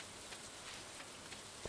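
Steady soft rain hiss from Stardew Valley, an even wash of fine patter with no voices, quiet and continuous.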